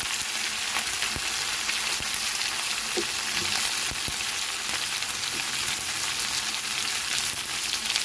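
Vegetables fry in hot oil with spices, giving a steady, dense sizzle that runs loud and close throughout, with a few faint clinks of stirring and no voices.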